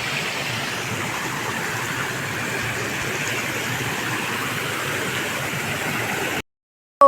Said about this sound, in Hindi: देखो कितना प्यारा झरना।